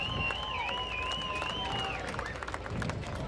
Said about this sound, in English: Race fans, a big NCRA round of applause.